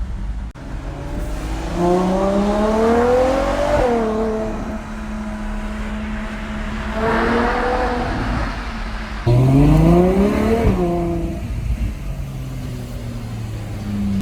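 A Ferrari 812 GTS engine accelerates hard through several gears in Monaco, each rising howl cut by a shift, the roar sweeping past and fading in between.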